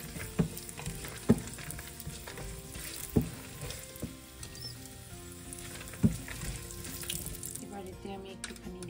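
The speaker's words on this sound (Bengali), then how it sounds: "এবার এতে আমি এই কিশমিশ আর বাদাম এগুলো ভেজে নেব অল্প করে।" Raisins and nuts frying in a little oil mixed with ghee, giving a steady close sizzle and patter, with a few sharp pops and clicks standing out now and then.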